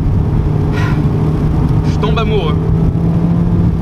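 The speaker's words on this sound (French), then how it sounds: "Le moteur, on l'entend bien, on le sent bien." A Mazda MX-5 30th Anniversary's engine hums steadily from inside the cabin while driving, a constant low drone running throughout with someone speaking over it.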